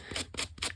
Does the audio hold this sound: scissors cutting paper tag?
yes